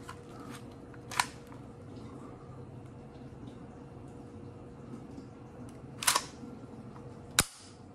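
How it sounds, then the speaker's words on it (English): Sharp metallic clicks from the metal magazine of a Resident Evil Lightning Hawk airsoft pistol, three isolated snaps spaced seconds apart, close and crisp over a quiet room hiss. "Let's do a mag check here."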